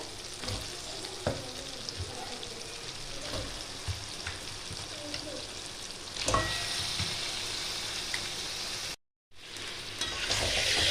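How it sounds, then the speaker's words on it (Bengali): Mutton marinated in yogurt, black pepper and salt sautés with spices in a pan, giving a continuous close sizzle with occasional stirring scrapes and a brief dropout near the end. "মশলাটার সঙ্গে এবারে আমি ভালো করে কষিয়ে নেব।"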